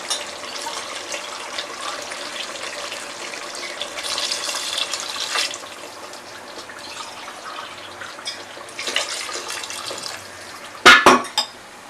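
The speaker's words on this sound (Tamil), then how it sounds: "இப்போ நம்ம வந்து தண்ணி ஆட் பண்ண போகிறோம்." Water pours from a tap into a cooking pot while chicken biryani is prepared, a steady splashing flow with pot and utensil clinks, ending in a few sharp metallic knocks.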